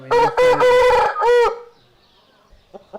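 A Madras breed rooster crows loudly and close, one long harmonic cock-a-doodle-doo in several bursts, followed by quiet and a few soft clucks.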